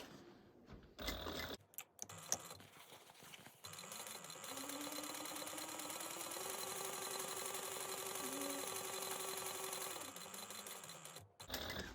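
A sewing machine runs a steady, continuous top stitch along a fabric tote beside the center seam, a sustained mid-level whir lasting several seconds after some brief handling noises, then stopping abruptly.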